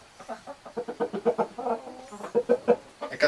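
A three-year-old farm rooster clucks in a rapid, rhythmic series of short calls, close and clear with no talk over it.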